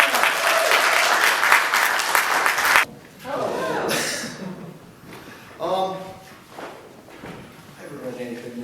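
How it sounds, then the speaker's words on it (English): Audience applause at an artists' gathering, a dense, loud burst of clapping lasting about three seconds that stops abruptly, followed by someone speaking with a few faint thumps and murmurs behind him. "Let's give him a big round of applause."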